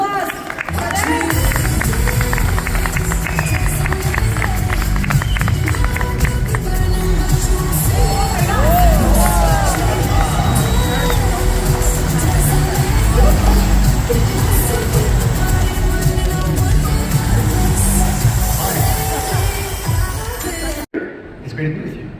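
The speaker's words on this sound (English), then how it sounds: "Big round of applause for that." Audience at an Emerge Americas event in Miami applauding and cheering, a loud sustained wave of clapping and crowd noise that carries for about twenty seconds before cutting off abruptly.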